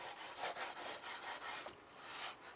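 Abrasive pad rubbed back and forth over a dried varnish layer to knock back its sheen, a steady close scratchy scrubbing in continuous strokes with no pauses.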